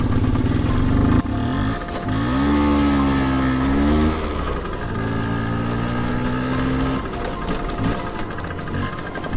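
A scooter's engine revs and pulls away, a buzzing motor tone that rises and falls in pitch over several seconds with rumbling noise around it, fairly close and loud.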